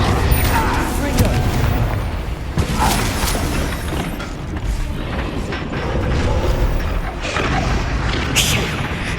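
Confringo fire spells exploding in Hogwarts Legacy on Xbox Series X, a dense run of loud booms and crackling blasts over game music and effects, with a voice talking through much of it.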